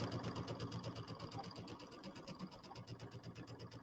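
A sewing machine stitching borders onto a table topper with a 1/4 inch seam, a quiet, fast, even mechanical whir with rapid rhythmic pulsing, steady and close.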